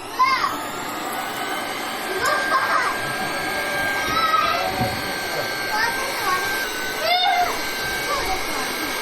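An air pump inflates a giant balloon for a balloon-bazooka tower game, giving a steady broadband whoosh throughout while children chatter and shout over it.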